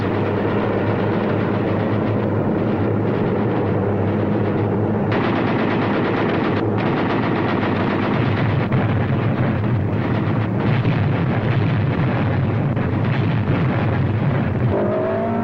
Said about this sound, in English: Then our Hellcats and Corsairs bat hell out of the jungle beaches. Needling them with .50 caliber.